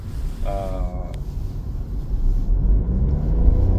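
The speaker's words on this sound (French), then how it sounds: "je te fais une petite accélération." Interior rumble of a Toyota Yaris Hybrid accelerating, low engine drone swelling steadily louder, with a brief voice near the start.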